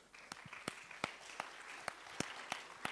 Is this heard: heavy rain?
no